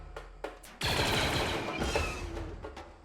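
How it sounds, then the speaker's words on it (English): Rapid gunfire from a RimWorld colony battle erupts after a quiet start, a dense sustained burst of automatic shots that lingers to the end, with no talking. "Oh, Bomba's shooting up there"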